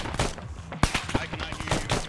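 Heavy gunfire in a military video game: dense, near rapid automatic shots crack continuously with sharp individual reports over a constant rumbling din.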